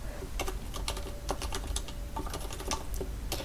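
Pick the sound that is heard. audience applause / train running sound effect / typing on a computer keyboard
typing on a computer keyboard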